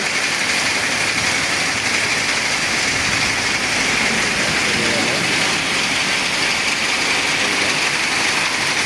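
Heavy rain pours steadily at Baradi bazaar, a dense, loud, continuous hiss of water on surfaces with no breaks, while a voice talks over it.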